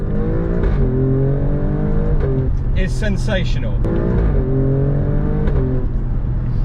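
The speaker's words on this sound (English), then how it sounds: "Those exhaust crackles from the Stelvio Quadrifoglio are, they literally make me smile" A 2020 Alfa Romeo Stelvio Quadrifoglio accelerates hard on an open country road, the engine climbing through gears with a shift gap and sharp exhaust crackles, heard from inside the cabin while someone talks over it.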